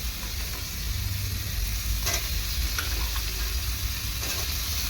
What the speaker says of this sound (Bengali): এখন আমি দিয়ে দেবো এই আলুগুলো।